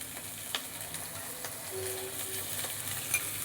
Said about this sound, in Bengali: পেঁয়াজের সাথে শুকনো লঙ্কার সাথে পাঁচফোড়নের সাথে ভালো করে একটু কষাতে হবে ডাটাটা আর আলুটা ভালো করে কষাতে হবে